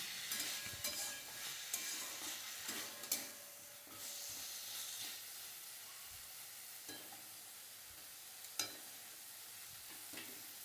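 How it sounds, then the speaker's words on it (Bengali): Drumstick pieces are sautéed with spice masala in a pan, a soft steady sizzle with intermittent spoon scrapes and occasional louder clacks against the pan, fairly quiet and without speech. "আমি কয়েক মিনিট এইভাবে কষিয়ে নিলাম"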